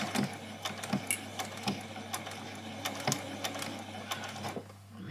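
A domestic sewing machine stitches a seam on a doll's dress, its motor whirring steadily with a rapid needle chatter and several sharp clicks and pauses as the fabric is turned.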